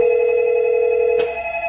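A hotel VoIP desk phone rings for room 301 with a loud, steady electronic tone that cuts off partway through, leaving a quiet hum.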